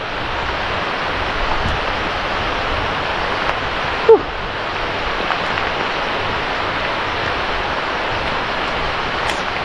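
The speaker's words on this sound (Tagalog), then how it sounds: "Lakas talaga ng ulan." Heavy rain pouring down outdoors as a dense, constant roar of broadband noise, loud and unbroken throughout, with one brief knock partway through.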